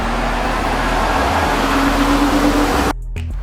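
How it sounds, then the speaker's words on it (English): Traffic passes a corner house where many trucks come through, producing a steady, loud broadband rumble and hiss with a low engine drone that cuts off abruptly near the end. "it's so loud because we're on a corner and a lot of like trucks come through here"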